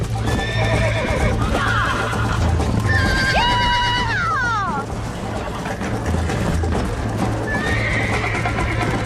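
A horse gallops with steady clip-clop hoofbeats and lets out several loud whinnies in the Western video game Red Dead Redemption, with game music and a rider's occasional spoken urging layered over it.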